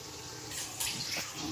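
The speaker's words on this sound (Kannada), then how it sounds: "ಆಮೇಲೆ ನೀವು ಕುದಿಯೋಕೆ ಇಟ್ಟಿದ್ರಲ್ಲ ನೀರು, ಅದನ್ನು ತಗೊಂಡು ಇದಕ್ಕೆ ಹಾಕಿ." Boiling water is poured into fried chicken masala for biryani, a brief continuous gushing pour with a hissing splash, close and fairly loud, with no talking.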